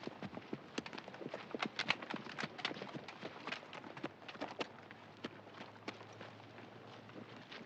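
Horses moving on hard ground, their hooves clip-clopping in a busy, irregular run of close, sharp knocks that thins out toward the end, with a faint low hum underneath.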